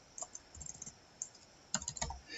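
Keystrokes on a computer keyboard click in two short bursts of quick, uneven taps separated by a pause, close and fairly quiet in an otherwise still room.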